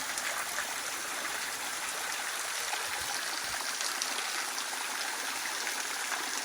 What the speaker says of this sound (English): All the water coming off that spring up there, down into here.